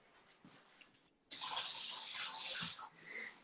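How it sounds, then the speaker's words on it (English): Water running from a kitchen tap as a chef washes hands, a steady close splashing stream that starts abruptly and continues for about two seconds before easing, with faint handling noises before it. "so just gonna wash my hands"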